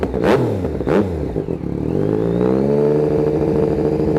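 A 2018 Yamaha MT09 motorcycle fitted with an SC Project slip-on exhaust revs sharply twice, then settles into a steady, slightly raised idle. The engine is close and loud, and no one speaks.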